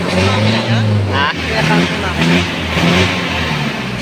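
A loud engine rumbles and revs up and down close by, its exhaust droning steadily throughout.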